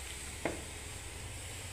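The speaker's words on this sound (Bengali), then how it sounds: "কড়াইয়ের মধ্যে বন্ধুরা দেখুন একটুখানি তেল দিয়ে দিচ্ছি" A little oil in a hot kadai, a faint steady sizzle under low hum with one brief clink near the start.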